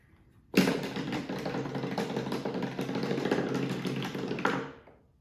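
Ball rolling down a rainbow toy, a steady rattling, clattering roll lasting about four seconds, starting with a sharp knock and ending abruptly, close and alone.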